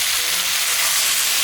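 Water added to fried spice paste in a pan of fish-head curry sets off a loud, continuous, hissing sizzle with a bubbling, steamy edge, close up and alone.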